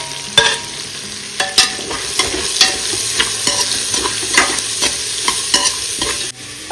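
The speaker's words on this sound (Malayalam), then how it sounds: "ഇനി അതിലേക്ക് നമുക്ക് കുറച്ച് സവാള ഇട്ട് കൊടുക്കാം" Onions fry in a pan for beef mandi while a spatula stirs them, with a steady close sizzle broken by repeated sharp scraping knocks against the pan roughly every half second.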